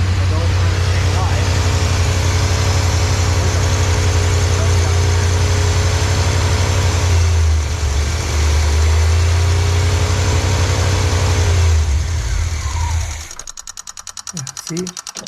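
A 1986 Trans Am engine with a fuel starvation problem runs loud and steady at high RPM for most of the stretch, a constant droning roar with slight wavering, then drops off sharply near the end to a rougher, quieter idle.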